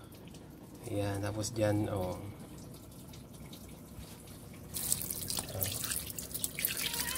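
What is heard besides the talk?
water running from opened faucet of mini water filtration system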